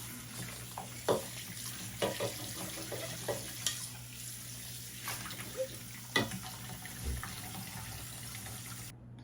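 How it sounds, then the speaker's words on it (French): Dishes are washed under a running tap, with a soft, steady stream of water and scattered clinks and knocks of crockery, all fairly quiet and close. "Bon, là, je finis ma vaisselle."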